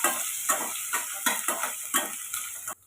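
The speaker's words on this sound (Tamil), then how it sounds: "சேர்த்துட்டு கொஞ்சம் வதக்கி எடுத்துக்கோங்க வெங்காயத்தை." Onions with dal and curry leaves frying in a pan for tomato rice, a steady close sizzle broken by rhythmic scraping stirs about every half second, with no voices.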